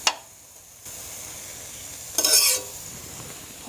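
Radish greens stir-fry in a pan at medium heat, a steady sizzle with a short louder burst of hissing and scraping as the greens are turned; no one talks.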